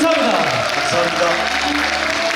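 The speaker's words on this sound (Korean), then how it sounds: "오늘 박수 한번 주시죠" Applause from the audience at the close of an author talk at an educator's book launch, heard under a voice talking, steady and fairly loud throughout.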